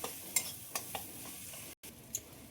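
Fried spice masala in a pan being stirred as hot water goes in, a quiet sizzle with a few scraping strokes and short clinks, briefly cutting out before the hiss resumes.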